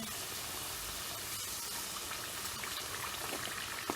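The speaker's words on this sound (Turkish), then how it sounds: "Şimdi onları yağda bir kızartıyorum." Potato halves, cut and hollowed, fry in hot oil with a steady, dense sizzle and hiss that stays even and close for the whole stretch, with no voices.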